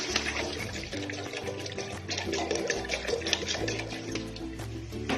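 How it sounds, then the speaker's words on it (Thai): About three liters of water pouring into a pot on a gas stove while making a sago dessert: a steady, continuous splashing rush throughout, fairly close, with a tonal background under it and no talk. "เปิดแก๊สนะคะเทน้ำจากไป3ลิตรเลยค่ะ"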